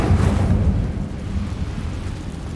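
Incendio fire spell cast in the Hogwarts Legacy video game, a loud, deep whooshing burst of flame that rumbles heavily at the start and trails off into a sustained roar.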